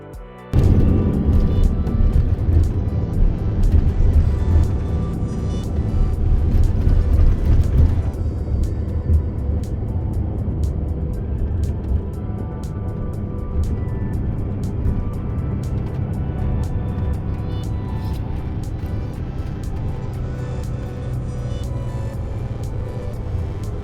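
Interior of a long-distance coach travelling by road from Bordeaux to Paris: a steady, fairly quiet low engine and road rumble continuing throughout, slightly louder in the opening seconds, with no talk.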